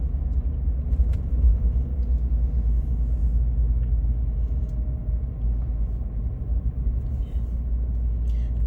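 A Dodge Charger SRT cruises along a Miami street at night, its deep, steady engine rumble close and dominant throughout, with faint scattered street noise above it.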